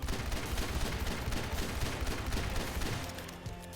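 Ashe's rifle in Overwatch fires in a rapid, unbroken string of loud, crackling shots that blur into one dense barrage, then taper off slightly at the end.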